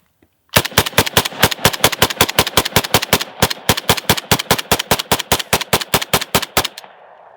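A Kalashnikov USA KR103 rifle fires a rapid magazine dump, about thirty loud, sharp shots in a fast even rhythm lasting roughly six seconds before stopping abruptly, with no talking.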